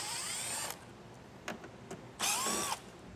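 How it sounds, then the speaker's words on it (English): A power drill with a T15 Torx bit backs out fasteners holding the front grille of a 2024 GMC Canyon, two close whirring runs separated by quieter clicks and short bursts, with no talking. "I'm going to take out these fasteners that are securing the front grille to the inside here"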